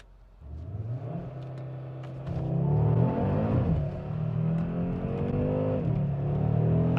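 A 2022 Audi RS3 saloon launches on launch control on a wet road: the engine idles low, then surges into a loud, rising rev and a hard, sustained acceleration roar close by.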